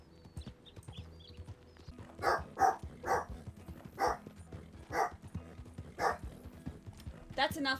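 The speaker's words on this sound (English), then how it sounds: "That's enough barking." A dog in the western role-play game RedM barks repeatedly, roughly once a second, in sharp mid-loud bursts over a low game backdrop.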